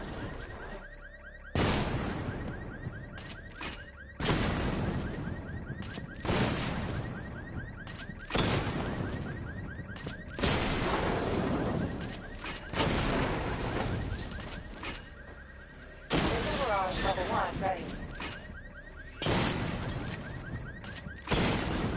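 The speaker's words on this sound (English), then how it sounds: "Destroy targets to charge up weapon energy and activate missile barrage." Weapon fire and a missile barrage from the Batman: Arkham Knight video game during a weapon energy diagnostic test. Loud, broadband blasts and whooshing bursts repeat roughly every two to three seconds, with no voices.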